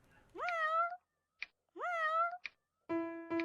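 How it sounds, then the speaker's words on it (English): A cartoonish cat meows three times in an RPG Maker horror game, each clear, close meow followed by a short soft tick, separated by brief silences. "Cat meowing."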